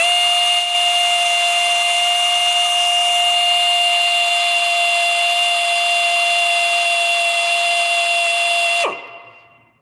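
A power drill drilling metal whines at a steady high pitch, loud and close, running continuously before spinning down and stopping near the end.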